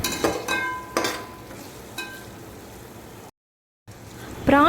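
Prawns sizzle and are stirred in a pan with coriander and mint for a prawn biryani, giving close frying hiss with scraping stir strokes, briefly cut to silence before the sizzle returns louder.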